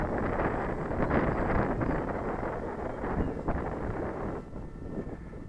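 An electric motor on a model plane opened up to full throttle, a steady broad rushing whine mixed with wind buffeting the microphone outdoors, continuous and fairly loud before easing slightly at the end.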